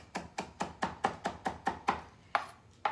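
Fresh herbs are chopped with a knife on a cutting board in a steady run of about a dozen crisp, evenly spaced thuds, close and clear with no talk.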